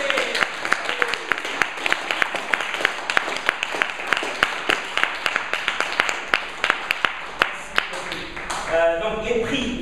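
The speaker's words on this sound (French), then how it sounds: "Et donc voilà, l'applaudir très fort." At a competition gathering, a small audience claps in sparse, distinct, fairly regular hand claps across several seconds, then the clapping gives way to a voice speaking at the end.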